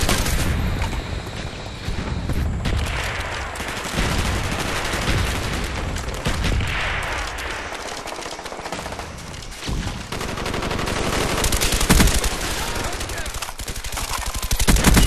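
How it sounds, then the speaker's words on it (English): Mortar strike in the video game Super Commando 3 amid a dense battle: continuous rapid gunfire and booming impacts fill the scene, with a voice speaking over the combat. "Mortar coordinates received, firing for effect."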